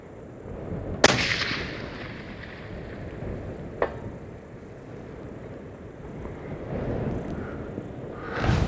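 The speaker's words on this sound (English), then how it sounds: "I hear the report of steel getting hit." Hunting rifle fired at a range toward a steel target plate: one sharp loud shot near the start, then a fainter distant crack a few seconds later over outdoor wind noise, with another burst at the end.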